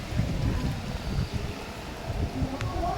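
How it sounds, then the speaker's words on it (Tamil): Strong gusty wind tears through trees in a small town during heavy rain and wind, a broad rushing roar with low buffeting rumbles against the microphone. "சரியான காற்று அடிச்சிட்ருக்கு இப்போ"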